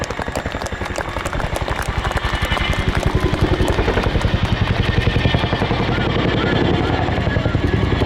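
A Chinook helicopter departs at the RIAT 2023 airshow display, its twin rotors producing a loud, continuous rhythmic thudding roar that builds and holds steady throughout.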